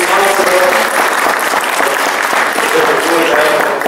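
An audience at an opening gathering breaks into a full round of applause, a loud, dense and steady wash of many hands clapping close by for the whole stretch.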